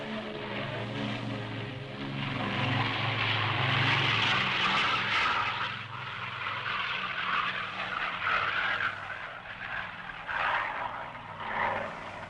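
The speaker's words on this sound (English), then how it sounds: "Finally, time for takeoff." Propeller aircraft engine roaring during takeoff, a loud continuous drone with rising and falling pitch throughout, close and steady with no talking.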